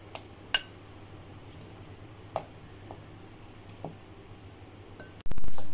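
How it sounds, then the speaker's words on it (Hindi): Spices being mixed in a bowl for a bread potato filling, a few faint, sparse clinks of a spoon against the bowl over a quiet hum, then a brief louder handling bump near the end. "अच्छे से मिक्स कर लेंगे इन चीजों को।"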